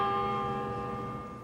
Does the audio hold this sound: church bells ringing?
yes